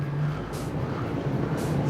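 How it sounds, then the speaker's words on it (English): A Chevrolet Camaro's 350 V8 idles smoothly, a steady low rumble heard from close by with an even, unbroken tone and no revving. "The little 350 in this thing just runs like a sweetheart. Settles down into a nice smooth idle."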